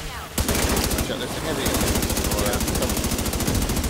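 Sustained rapid-fire burst of a minigun in The Division 2, a dense mechanical rattle that kicks in abruptly after a brief lull and keeps hammering loudly to the end, with occasional voices underneath.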